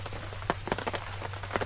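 Rain falling at a campground in Lake Tawakoni State Park, Texas: soft, steady patter with scattered louder drops ticking nearby over a low constant hum, faint and close.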